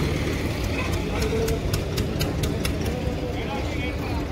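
A 1994 Mahindra 575 tractor idles at an outdoor tractor market, a steady low rumble with a rapid, faintly ticking beat, recorded near the engine amid background noise.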